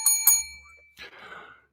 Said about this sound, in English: Bing that bell, baby.